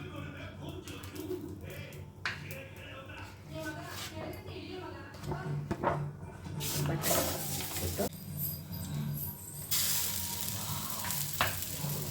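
Ragi roti sizzles steadily in oil on a hot griddle, with a constant frying hiss that swells louder in the second half, alongside some stirring and voices in the background.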